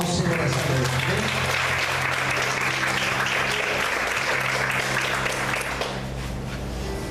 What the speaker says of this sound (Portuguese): Vamos aplaudir ao Senhor nessa noite.